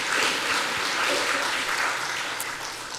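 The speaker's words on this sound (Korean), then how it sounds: "우리 다시 한번 주님 앞에 영광의 박수 올려드리겠습니다" A church congregation applauds during a worship service, a full, close burst of clapping that holds steady and eases slightly toward the end.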